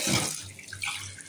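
Tap water runs into a sink while beefsteak is washed, a short, faint splashing rush heard up close with no talk.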